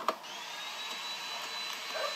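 A vacuum cleaner running steadily with a constant high whine, fairly close, no talking.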